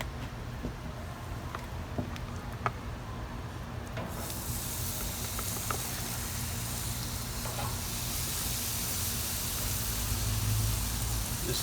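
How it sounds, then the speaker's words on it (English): Burgers in a Yoshida marinade are laid onto a hot grill, and a soft background hiss swells after a few seconds into a steady, fuller sizzle of fat frying. Some faint clicks come through, and no one talks. "we go ahead and put our burgers on"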